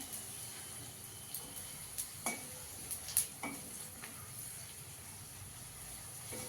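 Stuffed papad frying in a small amount of hot oil in a kadai, a faint low sizzle broken by scattered light clinks and stirring taps, heard close up with no talking.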